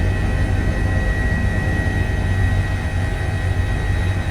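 An Airbus H145 helicopter in Microsoft Flight Simulator hums as a steady, loud rotor and turbine drone with a constant whine, flying over fjord scenery in continuous engine noise with no talking.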